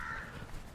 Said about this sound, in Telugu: అట్టా ఇప్పుడు కాకి అరుస్తుంది అది ఆడ అరుస్తుంది